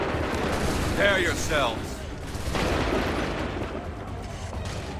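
Musket volley gunfire in the Assassin's Creed 3 video game, set in Montreal: a burst of crackling shots around the first second and a half over a constant din of battle, with a voice shouting orders.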